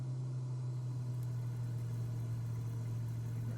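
Steady engine drone of an aircraft climbing at 2300 RPM in Microsoft Flight Simulator, a constant low hum with even tone and no breaks, alone without talk.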